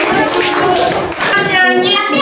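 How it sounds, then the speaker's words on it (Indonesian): Children in a classroom clap their hands together in a brief, lively burst, with young voices and chatter mixed in throughout. "Tepuk tangan untuk semuanya"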